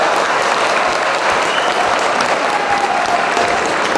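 Sustained applause from a crowd in a games room at the Falkon 2015 convention, dense steady clapping throughout with no voices standing out.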